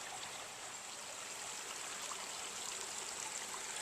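A shallow stream flows slowly beneath the 1853 Skilton Gorge stone bridge in Watertown, Connecticut, giving a steady, even wash of water with no voices.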